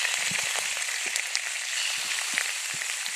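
Meat sizzles steadily in a hot pan for a Filipino sautéed vegetable dish with pork, a dense continuous crackle with scattered louder pops, close up and with no talking.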